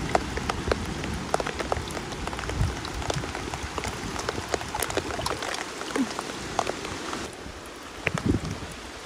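Heavy, steady rain patters on surfaces outdoors during a downpour while people dig for mud snails, with scattered sharper drops and splashes and light wind noise throughout.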